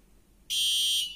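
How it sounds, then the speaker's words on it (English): A sharp, high-pitched electronic buzzer on an Arduino touch-free garbage bin sounds abruptly and holds steadily for about half a second after a moment of near silence. "Oh no, the buzzer rings."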